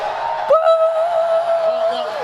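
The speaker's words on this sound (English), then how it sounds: "Cheer if you want to go into the tunnel." A crowd of children at BlizzCon 2017 opening ceremonies shouts and whoops together in one sustained cheer, rising sharply then holding.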